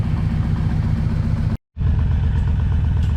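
Yamaha V-Max 1200 motorcycle engine, restarted after a long standstill and freshly serviced with new oil and clutch fluid, idles with a loud, steady close-up rumble, broken by a brief cut of silence midway.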